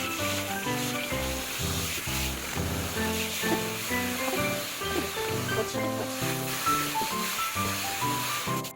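Carbonated spa tablets fizzing in a basin of running bath water for a small dog, mixed with shampoo; steady close hiss and bubbling under a continuous music track, with no talk.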